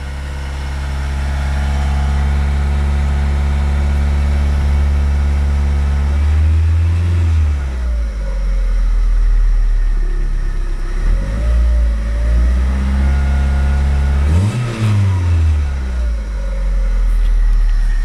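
A Stratus 2.4 liter engine with no balance shaft, fitted with urethane-filled motor mounts, runs loud and close with a deep idle drone, then revs up and settles back twice.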